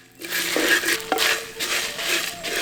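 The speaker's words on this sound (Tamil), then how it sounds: "சட்டி நல்லா சூடானதும் கொத்தமல்லி, வரமிளகாய் ரெண்டையும் இப்ப நல்லா வறுக்க ஆரம்பிச்சிடலாம்." Coriander seeds and dried red chillies dry-roasting in a hot pan, a short burst of rustling, scraping stirs with a light clink, close and moderately loud, no talk.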